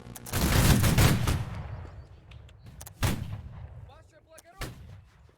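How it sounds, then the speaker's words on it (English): Rifle volleys fired as a 21-gun salute at an ANZAC memorial in the game Holdfast: one loud, ragged massed volley, then two sharper single volleys with quieter gaps and a fading tail between them. "everyone, give a 21-gun salute to all the brave soldiers that have died, both in the past and present"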